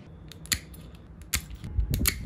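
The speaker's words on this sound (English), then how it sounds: "Just cutting all those cables." Cable cutters snipping bicycle cables on a 1991 Giant Sedona vintage mountain bike, a few sharp close snaps spaced apart with light handling noise between.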